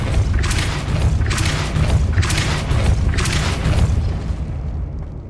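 Depulso force spell from the video game Hogwarts Legacy, cast as four heavy booming blasts at roughly one-second intervals, each with a bright burst followed by a fading rumble.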